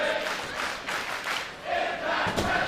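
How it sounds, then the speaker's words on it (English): A sold-out wrestling crowd at the Rebel Entertainment Complex in Toronto roars continuously, a dense wash of cheering that swells and dips, with a sharp impact near the end. "Sold out crowd here at the Rebel Entertainment Complex."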